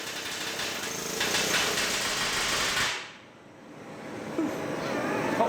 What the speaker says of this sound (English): you heat the rivet to soften the metal. Then slot it into the hole before hammering the soft head flat to pinch the plates together